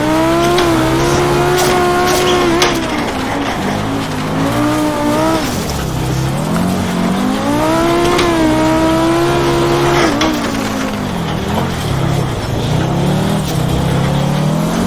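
Group B Audi rally car in a racing video game on a 24 km gravel hillclimb, its engine revving loudly and continuously through gear changes, rising and falling with acceleration and lift-off, with tire scrabble over gravel.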